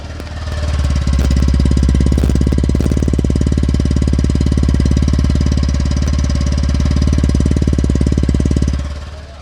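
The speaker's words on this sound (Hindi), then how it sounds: "तो ये देख लो, स्कूटी स्टार्ट हो गई है। अब इसका एग्जॉस्ट सुन लो।" A Honda Activa 6G scooter idles with a loud, steady, close-up exhaust putter, its rapid even pulses holding for about eight seconds before cutting off, with no talk over it.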